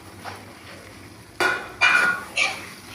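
A spoon scrapes and clanks against a pan while javvarisi halwa mixture with jaggery is stirred, three distinct metallic strikes ringing out close over a quiet background.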